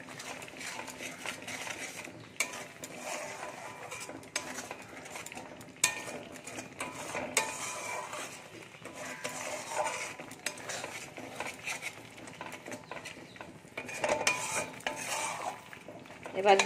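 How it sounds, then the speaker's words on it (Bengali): Spiced masala paste with Kashmiri chilli paste being stirred and fried in a pan, a steady busy scrape of spoon on metal over a low sizzle, with occasional clinks, close and continuous for the whole stretch. "তো মশলাটা খুব ভালো করে আবারও কষিয়ে নেব।"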